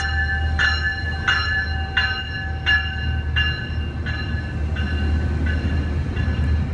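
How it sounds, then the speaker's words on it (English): A train rolls past close by with a heavy low rumble, accompanied by a regular series of bright, ringing clanks repeating roughly every two-thirds of a second, with no talking. "Hold on, let the train pass."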